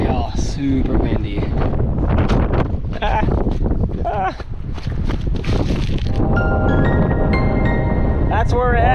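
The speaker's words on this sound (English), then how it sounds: "It's windy out here, y'all. Super windy." Gusty wind buffets the microphone outdoors on Maui in loud rumbling blasts, while people talk over it.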